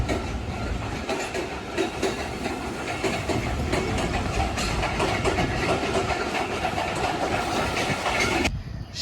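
A train rumbles past close by with continuous loud clattering and rolling noise that holds steady for most of the stretch before cutting away near the end.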